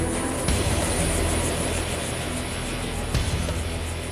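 An Army attack helicopter at a gunnery competition, its engine and rotors producing a dense, continuous roar that stays steady and loud throughout, with faint thumps near the start and toward the end.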